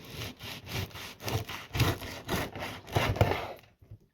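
A knife saws through a cooled homemade bread loaf in about a dozen rhythmic back-and-forth strokes, close and crisp, ending in quiet.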